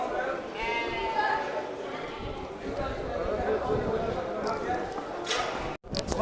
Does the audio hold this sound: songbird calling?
no